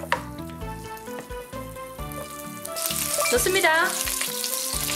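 Butter sizzles with shrimp in a pan over a wood fire, a steady bright frying hiss that grows louder partway through, with people talking over it.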